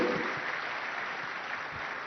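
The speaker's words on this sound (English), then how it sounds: "Give yourselves a round of applause." An audience at a summit gives sustained applause, a steady wash of clapping for about two seconds without voices over it.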